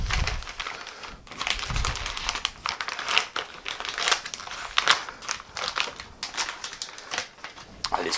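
An oversized plastic sous vide bag holding chicken is folded over and handled, giving close, continuous crinkling and crackling plastic noises with irregular sharp rustles.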